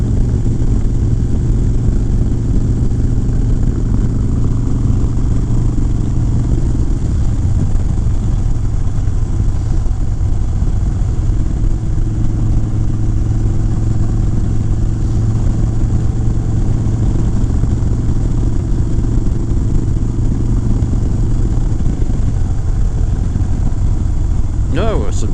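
Motorcycle engine running steadily through a long ride on the road back to Charleston, West Virginia, a constant low drone with wind rush throughout, while a rider talks over it.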